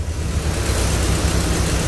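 An MGB engine with a Weber DCOE carburettor and long branch manifold idles with one cylinder cut, giving a steady, loud, close low-pitched drone and no talking.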